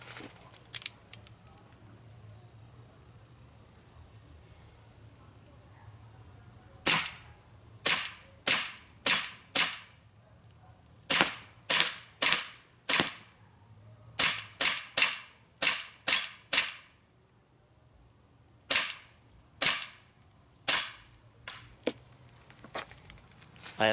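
An Umarex Beretta M92A1 replica pistol firing single shots, about twenty sharp, loud cracks spaced roughly half a second to a second apart in several strings, with quiet gaps and faint handling noise between.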